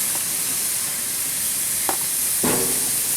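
Brown-sugar and soy-marinated chicken on a backyard grill gives a steady broad sizzle and hiss, with two brief louder flare-ups of crackle near the end; no one speaks.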